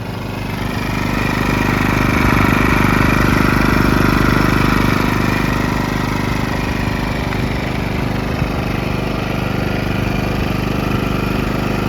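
A Powersmart PS5025 2200W portable four-stroke OHV gas inverter generator runs close by, a steady, even engine drone with a low rumble and no breaks or changes in pace.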